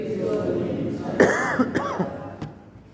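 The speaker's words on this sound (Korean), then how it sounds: "기침이 나오려고 말라 하는데 안 해야 되는데 싶은데 자꾸 나오려고 하고" A few sharp coughs and throat-clearing sounds, close and somewhat muffled, over a low background murmur.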